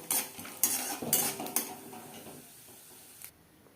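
Peanuts frying in a pan with spices while being stirred, with scraping utensil strokes and a faint sizzle that fade out into quiet.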